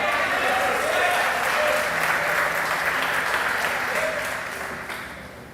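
A church congregation breaks into sustained applause during an evening service, a dense, loud wash of clapping that gradually fades toward the end.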